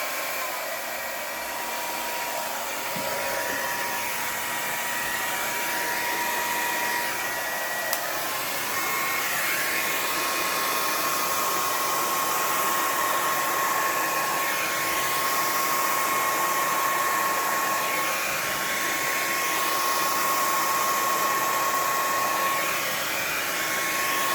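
Hair dryer running on its high setting, a steady loud whooshing blow with a faint motor whine, continuous and close for the whole stretch, no voices.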